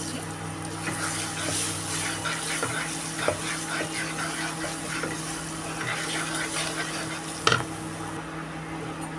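Green chillies are tossed into chili paneer frying in a pan. A steady sizzle and bubbling hiss run throughout, with faint stirring clinks and one louder clatter near the end.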